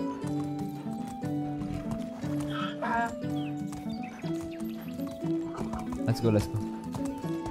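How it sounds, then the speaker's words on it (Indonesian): A donkey is ridden in the medieval survival game Medieval Dynasty, and its hoofbeats clip-clop rhythmically along with game sounds and music while a person talks over them. "Ini pakai kuda pakai keledai aja rasanya lama gitu ya."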